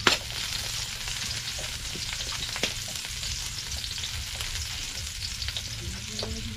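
Garlic sautéing in a hot pan sizzles steadily and close up, with small stirring clicks and scrapes scattered throughout.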